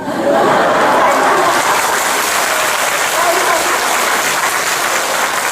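An audience, including an elderly woman, breaks into loud, dense applause that fills the whole stretch as a continuous roar of many hands.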